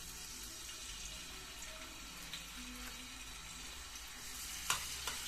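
Garlic dropped into hot oil and melted ghee sizzles in a pan, a steady bright frying hiss that holds throughout with a few small pops and crackles near the end.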